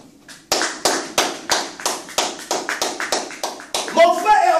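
A church congregation applauds Jesus with a series of sharp, evenly spaced claps, about a dozen in a steady rhythm, ending in a denser burst mixed with shuffling.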